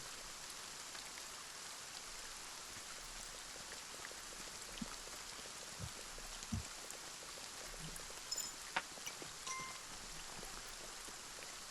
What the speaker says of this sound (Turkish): Yağmur yağıyor çamur oldu